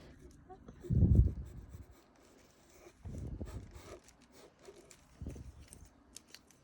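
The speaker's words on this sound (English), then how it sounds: "So I'm adding details, being specific with my mechanical pencil" Mechanical pencil scratching across paper in short bursts of drawing strokes, close and fairly quiet, with gaps of near silence between them.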